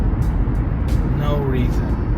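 Steady road and engine noise from traffic moving fast along the 41 highway, heard from inside a car, with a voice talking over the constant rumble.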